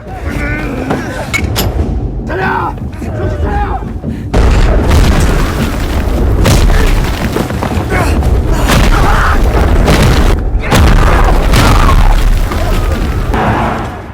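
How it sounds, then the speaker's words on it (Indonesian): Loud, rolling cannon bombardment in a depiction of the 1920 battle between Korean independence fighters and elite Japanese troops: heavy booming blasts pile up almost without pause, dense and close. "langsung saja musuh menghujani mereka dengan meriam yang membabi buta"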